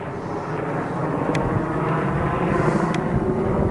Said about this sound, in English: Black Ops helicopter.